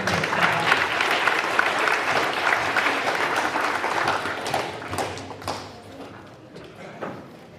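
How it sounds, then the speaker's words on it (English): A school football awards day crowd applauds a player's attitude award, steady broadband clapping for several seconds that thins and fades toward the end with scattered claps and light voices. "So we'll just give Tegan a round of applause."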